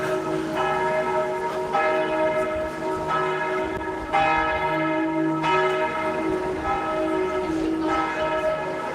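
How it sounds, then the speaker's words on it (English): Church bells peal steadily from a bell tower in Périgueux, France, their rich overlapping tones swelling and striking in repeated waves, loud and sustained with no talking over them. "That's the bell tower."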